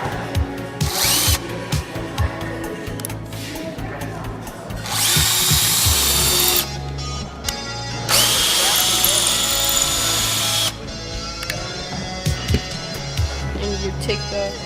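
A power drill whirs in several short bursts, drilling holes in wood, winding up and stopping between runs, with a person talking in the quieter gaps.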